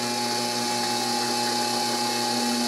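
A DC motor drill cuts a large hole at a slow 390 RPM, giving a steady, loud, even motor whine with a constant hum and no break or voices.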